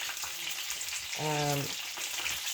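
Food frying in vegetable oil in a skillet, a steady hiss and crackle, briefly overlaid by a short tonal hum midway.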